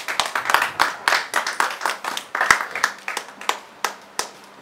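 A congregation at a church worship service claps hands in a steady, fast rhythm, dense and loud, with sharper individual claps standing out near the end and no clear voices.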